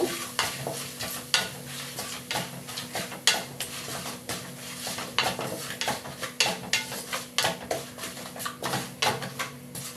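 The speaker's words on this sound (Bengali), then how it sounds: "এবার মশলাটাকে ভালো করে ভেজে নেব" Ground cumin, coriander and turmeric frying in a pan for a mixed vegetable curry, a constant sizzle under rapid, repeated scraping stirs and clinks of a spatula against the pan, close and fairly loud.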